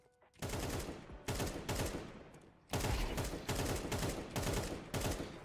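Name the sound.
rapid gunfire from panic shooting in Counter-Strike 2 video game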